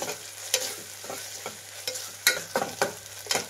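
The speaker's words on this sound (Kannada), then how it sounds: "ಒಂದು ಸ್ವಲ್ಪ ಶುಂಠಿ ಬೆಳ್ಳುಳ್ಳಿ ಪೇಸ್ಟ್ ಹಾಕ್ತಾ ಇದ್ದೀನಿ. ಇದು ಹಸಿ ವಾಸನೆ ಹೋಗೋವರೆಗೂ ಫ್ರೈ ಮಾಡಬೇಕು." Ginger garlic paste fries over a medium flame in a pan, giving a steady close sizzle broken by repeated scraping stirs at irregular intervals, with no voices.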